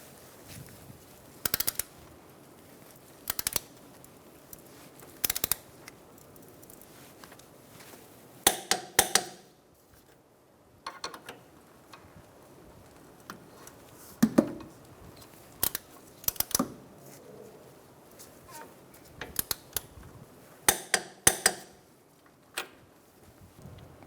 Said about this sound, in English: now we're going to torque down all our bolts